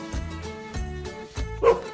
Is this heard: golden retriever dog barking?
yes